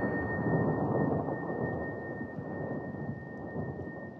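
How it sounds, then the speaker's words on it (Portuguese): A deep rolling thunderclap rumbles loud and low, swelling early then slowly fading across several seconds, with a rain-like wash underneath and no voices. "Trovão inesperado."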